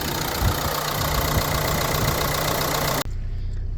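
Car engine running steadily, heard as a loud, even mechanical rumble with a faint rhythmic knock. It cuts abruptly near the end to a quieter background.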